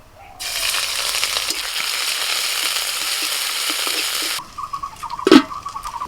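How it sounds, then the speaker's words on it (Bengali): Chopped ginger and green chili fry in a little hot oil with a loud, steady sizzle for several seconds, then it cuts off, leaving a few clanks and quiet kitchen sounds. "আদা কাঁচা লঙ্কাটা একটু হালকা করে ভেজে নিয়ে"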